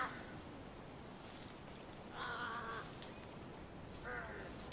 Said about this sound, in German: hat aufgeregtes Krähengeschrei gehört